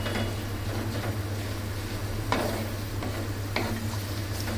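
Onions frying in a pan until light brown for Afghani Kabuli pulao, giving a continuous close sizzle over a low steady hum, with a couple of brief stirring scrapes and no voices.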